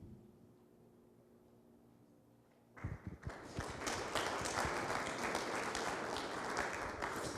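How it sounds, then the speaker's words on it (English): Near-silent room noise gives way to a sudden burst of audience applause at a community safety meeting, rising within a second into dense, sustained clapping that stays loud and even to the end. "You guys are catching on with the applause."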